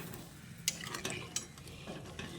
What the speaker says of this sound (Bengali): জলটা দিয়ে ভালো করে সব কিছুকে একসঙ্গে নেড়েচেড়ে মিশিয়ে নিয়েছি